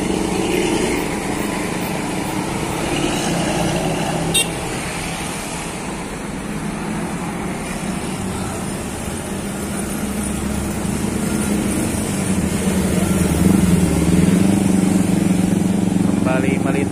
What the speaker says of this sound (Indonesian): Disusul lagi bus Harum Prima.